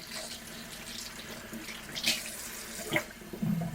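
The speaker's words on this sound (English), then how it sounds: "And then I'm going to add some water." Warm water poured from a container onto very dry houseplant soil, a soft continuous trickle and splash with a few brighter gurgles near the end, close and fairly quiet.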